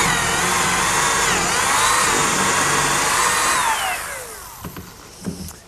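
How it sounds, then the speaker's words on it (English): A power drill with a 3/8 inch bit whines loudly and steadily while boring a bolt hole in a picnic table or sawhorse, its pitch sliding down as it winds to a stop, followed by a few light knocks. "Now I'll drill a hole with a 3/8 inch bit for the unthreaded portion of the bolt."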